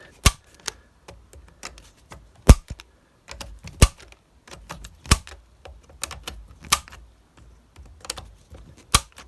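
Sharp, dry clicks of a torque screwdriver on a consumer unit repeat irregularly, some louder than others, with faint mechanical rattling between them and no talking.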